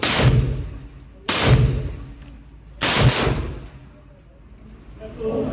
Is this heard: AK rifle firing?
yes